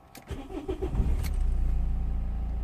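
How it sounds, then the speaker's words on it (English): A 2004 Renault Modus 1.5 dCi diesel engine cranks with a few rapid turnover beats, catches and settles into a steady, close, rhythmic diesel idle. "Let's gonna start the engine."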